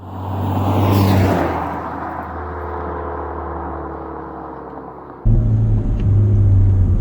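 A 2016 Chevrolet Camaro with a 2.0-liter turbo four pulls hard under acceleration, its engine rumble and rising whine loud and continuous from inside the cabin, then surging again with a sharp jump in intensity.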